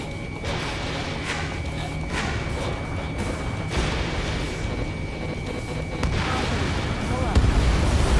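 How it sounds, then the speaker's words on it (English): A missile launch and explosions in the Ace Combat 7 jet combat video game, heard as a dense roar of jet engine noise with repeated booming impacts, a steady tone beeping through it. "Missile away."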